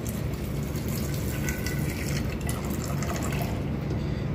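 Milk poured steadily for one cup of karak chai, a continuous close liquid trickle and fill sound running throughout with a low hum beneath, no talk.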